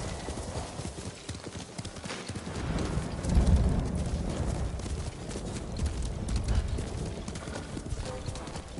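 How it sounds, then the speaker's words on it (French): Horse hooves clip-clop in a quick, steady rhythm over rumbling background noise, with a brief louder thump partway through, in the video game Ghost of Tsushima. "C'est le meilleur cheval."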